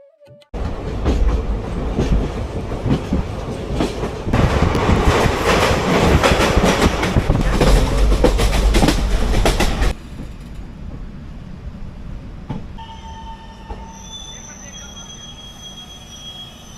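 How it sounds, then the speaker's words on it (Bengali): A local train runs from Jammu toward Udhampur in Kashmir, heard from inside a nearly empty general compartment, with loud rumbling and clattering wheels that ease into a quieter hum with faint squeals toward the end. "আমরা ট্রেনে করে জম্মু থেকে উধমপুরের উদ্দেশ্যে রওনা দিলাম"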